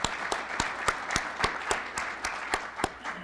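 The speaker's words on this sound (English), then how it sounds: "You guys should give yourselves a round of applause because you've done an excellent job for the foundation." An audience applauds for a Rotary club at a district governor's address, a steady wash of many hands clapping with sharp individual claps standing out in a fairly even rhythm throughout.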